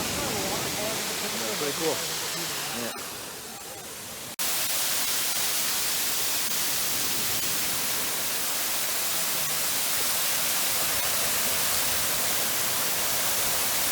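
A waterfall at the end of a mile-long hike roars as a loud, steady wash of noise, with people briefly talking close by over it near the start.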